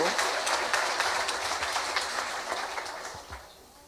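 Applause at a company awards ceremony, a burst of many hands clapping in a room that gradually thins and fades out over a few seconds.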